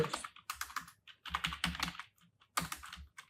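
Brisk typing on a computer keyboard while writing C code, clustered bursts of close key clicks separated by short pauses.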